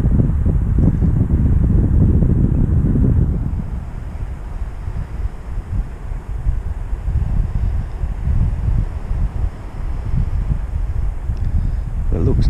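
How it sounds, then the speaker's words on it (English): Strong wind buffets the microphone on an exposed shore while fishing near Cape Jervis, South Australia, a steady loud rushing roar that eases slightly partway through, with a voice speaking faintly under it. "Wind's coming a little bit more from the west."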